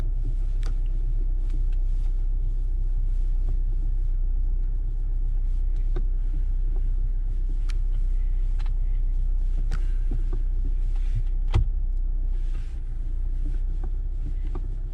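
A 2019 Jeep Wrangler Unlimited with the 2.0 turbo engine idles steadily with a low, even rumble, alongside a few faint clicks and knocks and no talking.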